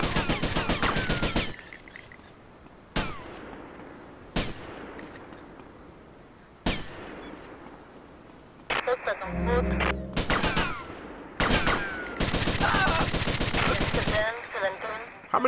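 Gunfire in Grand Theft Auto Vice City: loud rapid automatic bursts, then single sharp shots spaced a second or so apart with ringing tails, and more dense bursts near the end, with a voice talking over parts.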